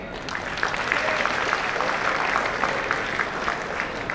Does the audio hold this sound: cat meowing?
no